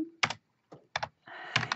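Computer keyboard typing in a few short bursts of clicky keystrokes, close and fairly quiet, with brief pauses between bursts and no talking.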